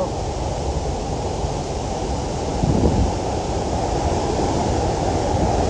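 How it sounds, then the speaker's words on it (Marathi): Harvalem Waterfall makes a dense, continuous rushing roar, heard from a distance and fairly loud, with a slight swell midway and no voices. "हांगच्यानूय तुमकां पळोवपाक मेळटा जाल्यार धबधबो"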